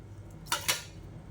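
Two quick clinking knocks as soaked poha is put into a mixer jar, close by, in an otherwise quiet kitchen.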